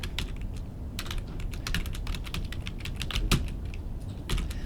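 Rapid typing on a computer keyboard while entering an address into a Word document, a dense run of quick clicky keystrokes with small pauses, close and clear, with no talk.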